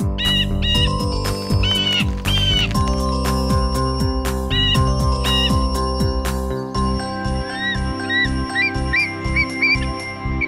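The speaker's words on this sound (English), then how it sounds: "This bird is called a blue jay." A blue jay calls in a series of bright, repeated chirps, clearest in the second half, layered over steady, loud background music with jingling tones.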